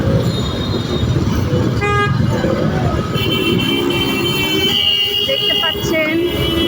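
Car and bus horns honk repeatedly in a traffic jam on a busy Dhaka road, short toots over a constant loud roar of engines and road noise.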